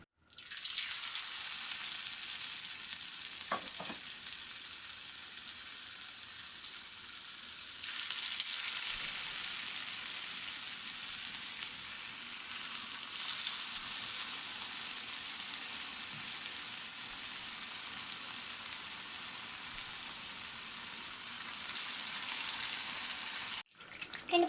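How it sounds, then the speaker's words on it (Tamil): Hash browns fry in a pan with a steady, close broadband sizzle that swells and eases in long waves, with a few faint clicks and no voices. "இப்போ ஃப்ரை பண்ண ஆரம்பிக்கலாம்."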